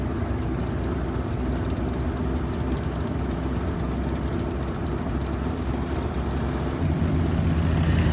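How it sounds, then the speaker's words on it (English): Vintage car engines run at a camper rally at Spring Mill State Park, Indiana, including a 1955 Volkswagen Beetle and an old Cushman, giving a steady, loud rumbling drone throughout with no talking. "I'm just going to kind of let the engines sing the songs to us."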